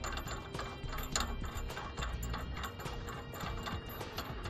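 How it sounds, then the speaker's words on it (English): Anti-rattle bolt being threaded by hand through the hitch receiver of a Hollywood Racks Trail Rider two-bike rack, a quiet run of close metallic clicks and scrapes in an uneven ratcheting rhythm. "we can take our included anti-rattle bolt and start threading that through here on the passenger side"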